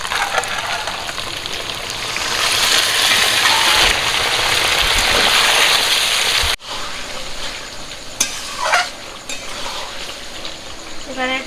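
Chicken and potatoes fry in a pan with a steady loud sizzle. Warm water is poured in, and the hiss breaks off, then returns as softer bubbling and scattered stirring clatter.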